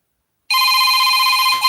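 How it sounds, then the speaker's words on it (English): A telephone rings with one loud, sustained electronic bell tone that starts abruptly after a brief silence and holds steady until a small bump at the end. "somebody's calling me again"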